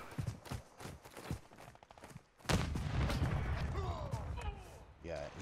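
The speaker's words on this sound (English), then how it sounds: "Throwing grenade!" A grenade goes off in Warzone 2 with a sudden loud blast that rumbles on for several seconds, after a run of sharp rhythmic impacts, with a person talking over the game sound.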